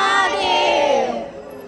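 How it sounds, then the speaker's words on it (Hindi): A large crowd of pilgrims at Kashi Vishwanath temple, a dense chorus of many overlapping voices chanting and shouting, loud at first and then fading. "मेरे पीछे आप लोग भीड़ देख ही रहे हैं, कितनी ज़्यादा भीड़ है।"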